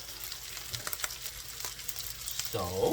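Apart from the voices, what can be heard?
cold rice added to sizzle in hot pan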